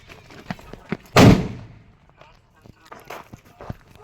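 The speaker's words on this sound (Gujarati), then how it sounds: "ફટાકડો ફોડો" A firecracker bomb bursts at a wedding procession, one sharp loud bang that rings off for a moment, surrounded by scattered clicks, shuffling and light sounds of people nearby.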